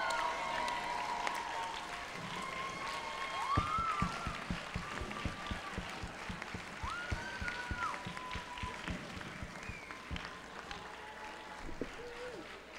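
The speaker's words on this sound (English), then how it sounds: "Please give yourselves a round of applause." An audience at a FIRST Robotics girls' awards ceremony applauds in a broad, moderately distant wash, while music with tonal sweeps and a rhythmic beat plays over it throughout.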